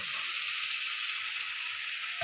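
Steady, even sizzle of fried potato and pointed gourd pieces hitting hot masala in a pan, a continuous close hiss with no talking and a slight swell near the end.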